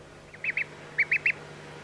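Young ducks give five short, bright calls in two clusters, two then three, moderately close against a faint steady background hum.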